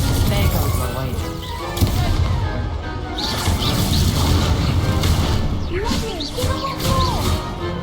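The Incendio fire spell is cast in Hogwarts Legacy during a wagered duel, with dense whooshing blasts and crashes layered over voices and other game effects throughout.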